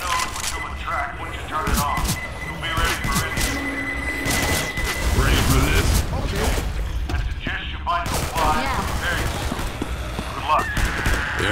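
Grenade blast and gunfire in Left 4 Dead 2, with a dense, noisy fight of repeated booms and shots and a heavier burst midway, under steady talk.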